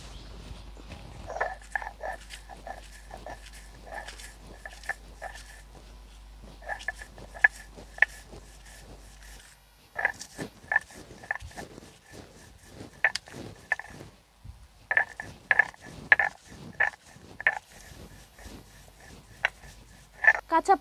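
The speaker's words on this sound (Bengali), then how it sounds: "লঙ্কা কালো জিরেটাকে বেটে নেব।" Fried chili and nigella seeds are ground by hand in rhythmic back-and-forth scraping strokes. The strokes come in close, steady runs with short pauses between them.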